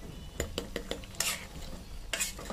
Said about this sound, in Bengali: বাগারটা আমি এখন ঢেলে দিয়েছি মাছের মধ্যে।